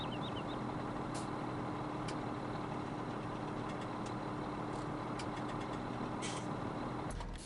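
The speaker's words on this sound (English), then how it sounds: "My engine's kind of running a little hot," Tractor or farm vehicle engine running in Farming Simulator 17, a steady faint idling drone with light ticking clicks scattered throughout.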